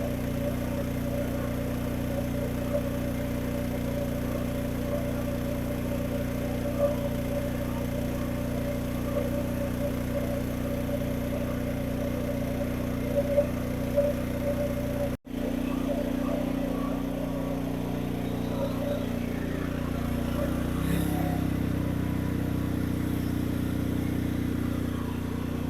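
Powersmart 3600 watt inverter generator running with eco mode switched off, a steady mid-pitched engine hum that drops briefly and settles to a lower, changed tone, with faint voices now and then.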